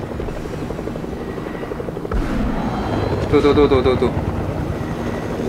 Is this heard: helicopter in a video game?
yes